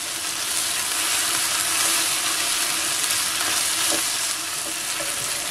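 Tomato paste and a spoonful of sugar sautéing in a pan, a steady close sizzle and crackle of frying with faint stirring scrapes throughout, no voices.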